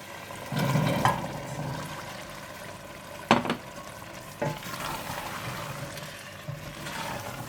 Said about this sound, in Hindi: और चने डालकर अच्छी तरह से भून लें।